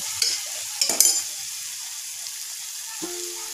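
Oil sizzles steadily in a pan as the tempering for Khandesh-style khichdi is sautéed, with a few sharp spoon scrapes and stirs early on over a constant close frying hiss.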